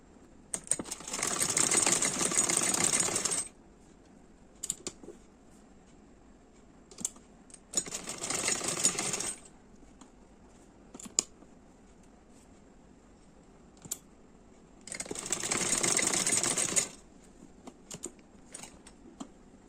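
Sewing machine stitching the shoulder seam of a child's side-plate frock, sizes 5-6 years, running in three bursts of about two seconds each with quiet pauses between, close and fairly loud with no talk.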